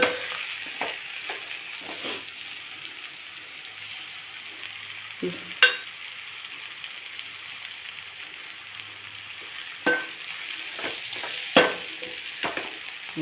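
Broad bean curry fries in a pan with a steady, moderate sizzle. Occasional sharp scrapes and taps of stirring break through at irregular intervals.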